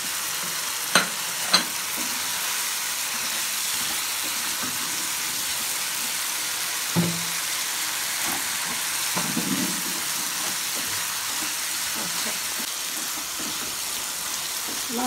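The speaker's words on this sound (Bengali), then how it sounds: "এবার ভেজে রাখা আলুটা দিয়ে দেবো" Fried potatoes going into a mutton curry frying in a pan, a steady sizzling hiss with scattered scrapes and clinks of stirring and a brief splash partway through.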